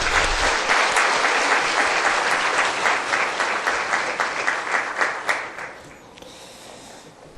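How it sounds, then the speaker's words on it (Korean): A church congregation applauds at a New Year's Eve service: sustained, dense clapping from a large crowd, loud and even throughout, then thinning and fading away near the end. "우리 하나님께 영광의 박수 올려드리겠습니다."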